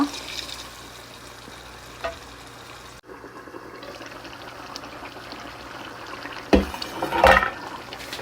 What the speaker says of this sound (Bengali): এবার সামান্য একটু পানি দিয়ে দিব